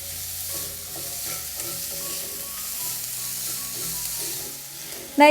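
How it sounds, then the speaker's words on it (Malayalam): Onions sauté on high flame for a capsicum curry, producing a continuous close sizzle with scraping stir strokes and a louder clatter at the end, no voices. "ഹൈ ഫ്ലെയിമിൽ വെച്ചിട്ട് തന്നെ നമ്മൾ വഴറ്റി കൊടുത്താൽ മതിയാവും"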